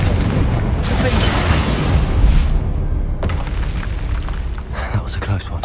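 A Confringo blasting spell in Hogwarts Legacy goes off as a loud, rumbling explosion, a booming burst that swells and fades, then gives way to sharper crackling impacts and game sounds.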